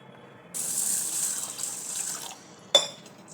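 Water runs and swishes for about two seconds as a bowl of basmati rice is rinsed, followed by a brief clatter and splash of a container.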